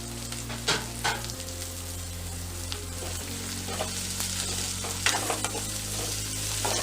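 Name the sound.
green chilies and tomato frying in oil for egg curry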